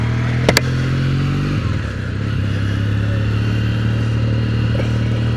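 A Kawasaki W800 motorcycle engine runs steadily nearby, a low rumbling idle that shifts pitch once after a brief clatter, with no talking.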